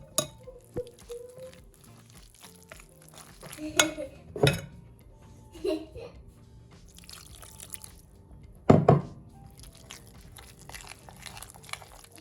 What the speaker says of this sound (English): I'm gonna get some water and make it into a nice, not like a dough itself